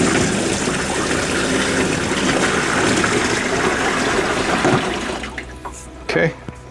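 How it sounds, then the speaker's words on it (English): Water gushes steadily into the chamber of a Honeywell air cooler for about five seconds, then stops, leaving a few faint trickles and light handling sounds. "Now I'm gonna pour the water down in this chamber."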